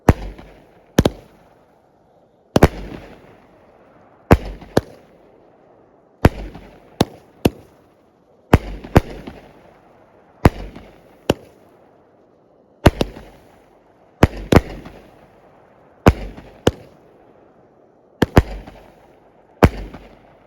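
Top Gun Fireworks Air Force cake firing outdoors, a long series of loud sharp bursts and pops, some in quick pairs, each with a fading crackle, spaced every second or so.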